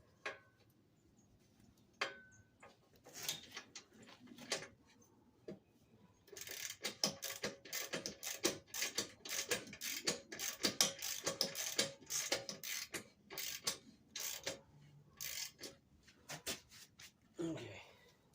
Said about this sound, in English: Throw the wrench on.